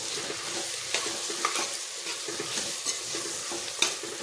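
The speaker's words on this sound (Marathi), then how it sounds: "आणि हे छान असं मिक्स केलं" Ghee is stirred into a one-pot meal as it sizzles, a steady frying hiss with soft repeated scraping strokes of a spoon, close and moderately quiet, with no voices.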